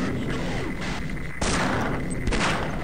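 Gunfire and battle noise in Half-Life as a Magnum revolver is fired at Marines: dense, loud, continuous rumbling blasts with a couple of sharper bursts near the middle and toward the end, no talking.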